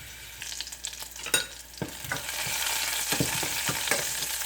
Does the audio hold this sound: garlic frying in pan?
yes